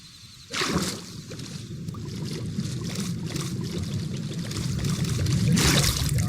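Rushing, splashing water from a player swimming at very high speed in a modded block-building video game, with a steady bubbling wash and a louder surge near the end, alone without talk.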